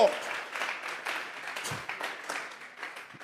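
Church congregation clapping as an offering to God during a Bible study service, a dense, uneven patter of hands that stays moderately loud throughout, with a voice briefly heard over it.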